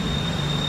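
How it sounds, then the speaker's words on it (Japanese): A driverless BTS Skytrain runs with a steady, loud rumble and a sustained high whine, heard from on board with no break in the noise. "無人電車なはずですよ。"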